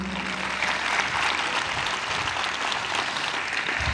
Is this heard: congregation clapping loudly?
yes